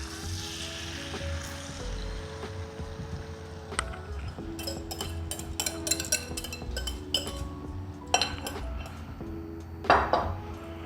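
Steady sizzling of eggs frying in hot groundnut oil, with occasional sharp clinks of a pan and utensils over a low background hum.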